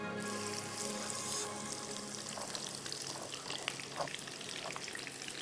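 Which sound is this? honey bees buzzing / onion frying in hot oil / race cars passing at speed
onion frying in hot oil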